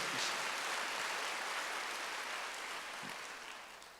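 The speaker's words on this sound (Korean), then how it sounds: "박수를 하세요." Applause from a congregation during a Wednesday church service, a soft, steady wash of clapping at a distance that slowly fades.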